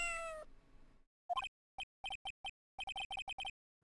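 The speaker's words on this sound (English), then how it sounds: "it sounded like a cat." Short digitized cat meows from a Phoenix Wright: Justice for All transmission, about a dozen clipped, evenly spaced mews after a fading tone, loud and clean with no talk.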